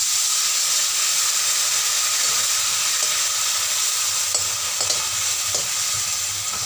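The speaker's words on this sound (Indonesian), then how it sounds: "kita masukkan labu kuning. Kita aduk sebentar." Chunks of yellow pumpkin are stirred as they fry in a pan, giving a steady loud sizzle and hiss with occasional scraping clicks from the utensil.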